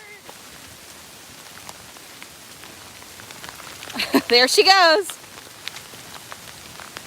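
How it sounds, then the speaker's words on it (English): Rain patters steadily on a roof at an open-air big cat rescue sanctuary, a soft continuous hiss while a person speaks briefly. "I can't even concentrate with all the rain."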